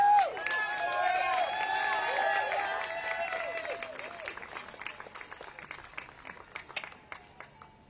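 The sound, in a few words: applause for survivors at a news conference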